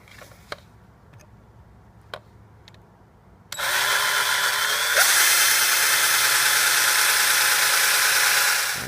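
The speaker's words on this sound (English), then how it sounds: "Now let's go ahead and get a drill bit and drill my pilot." A power drill bores a pilot hole in reclaimed wood for a desk: a few soft clicks, then the motor starts with a loud steady whine that holds strongly to the end, no talking.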